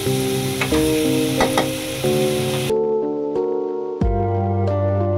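Butter, salt and chopped chili with onion sizzling loudly in a hot pan, a dense close crackle that cuts sharply about halfway, then a few faint stirring clicks and a renewed sizzle burst.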